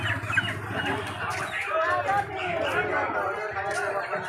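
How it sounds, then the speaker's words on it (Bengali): Broiler chickens at a stall in New Market's fresh produce bazaar in Kolkata, clucking and chattering in a busy crowd, partly under someone talking nearby. "এই দেখেন ব্রয়লার মুরগি"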